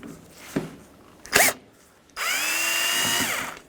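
Cordless power drill backing out Phillips screws from a 2007-2013 Acura MDX rear door while the exterior handle latch is being removed. A couple of short whirs come first, then one sustained whining spin, close up and alone.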